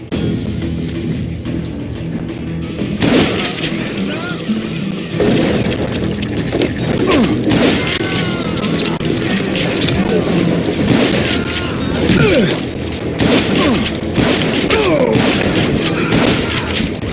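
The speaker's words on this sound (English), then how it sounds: "a fusillade of bullets come raining down from on high" A fusillade of gunfire in the Call of Juarez Gunslinger video game, with sustained rapid shots crackling for most of the stretch, loud and close, under occasional spoken narration.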